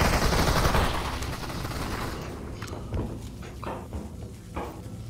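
Rapid bursts of gunfire in the VR shooter Population: One, loud at the start and then fading into scattered, sharper shots and thumps over a few seconds.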